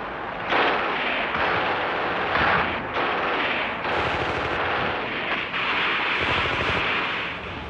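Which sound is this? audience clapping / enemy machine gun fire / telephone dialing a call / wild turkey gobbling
enemy machine gun fire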